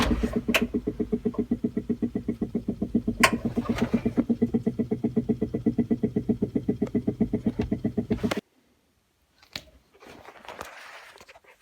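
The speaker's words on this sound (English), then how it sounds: "Sounds like the blower motor has finally had it." A failing car blower motor runs with a rapid, steady rhythmic thumping for about eight seconds, then cuts off, leaving near silence and a few faint clicks and rustles.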